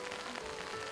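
Steady drizzle and rain falling throughout, a continuous soft hiss of drops on surfaces, moderately quiet and without pause, no voices.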